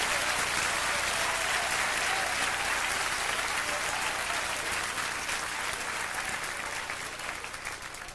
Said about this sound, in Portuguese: Pode aplaudir ao Senhor. Podem aplaudir.